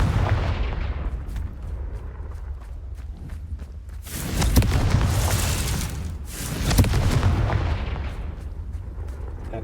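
A Confringo fire spell blasts in Hogwarts Legacy near a Merlin trial: two loud, close, booming bursts with roaring tails, separated by a short gap, over quieter game ambience and faint clicks, without talk.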